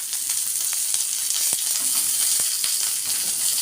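Peanuts, cashews and raisins fry in hot oil for dry-fruit poha, giving a steady, bright hiss of sizzling with occasional soft ticks from stirring, close and continuous.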